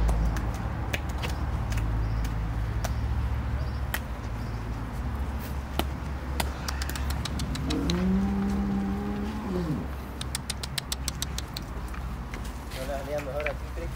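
A cow on a cattle ranch in El Salvador gives one drawn-out moo partway through, heard over steady outdoor noise.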